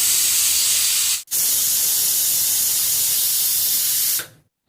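A pressure cooker cooking amaranth leaves on medium flame vents steam in a loud, steady hiss up close, broken by one brief gap before cutting off abruptly.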